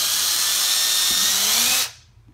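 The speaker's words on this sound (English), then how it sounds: "I'm going to find the center of my hole, drill it" A power drill whirs steadily for about two seconds drilling a small hole, close and loud, then cuts off abruptly into near silence.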